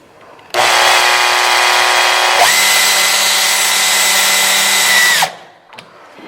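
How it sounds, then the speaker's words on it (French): Power screwdriver driving a screw through a glass-partition frame into plasterboard: one loud, close, steady motor whine lasting about five seconds, shifting pitch partway through as the screw seats, then stopping. "On va utiliser des vis adaptées au support."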